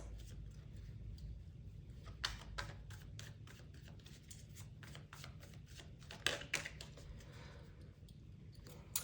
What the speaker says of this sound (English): I'll pull a few more cards on their